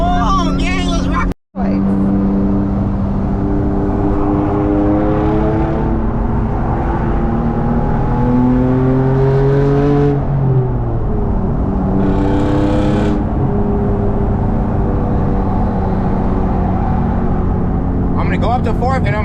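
A very loud BMW E36 revs hard on the highway, its engine note climbing and falling through gear changes with a brief cut near the start, with a voice talking over it.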